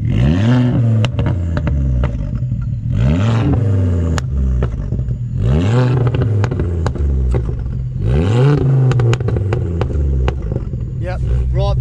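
A 385–400 bhp Ford Focus ST with an X37 turbo accelerates hard on the road, its engine rising in pitch through repeated gear pulls with sharp shift breaks, loud and close inside the cabin.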